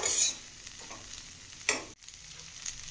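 Masala being stirred into chickpea rice in a hot pan, a soft sizzle under a few scraping spoon strokes and clinks, close and quiet, with no talking.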